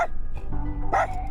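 Small dog Boomer yips and barks at cows along a gravel road, a few short sharp barks rising over steady vehicle road noise during a cross-country trip.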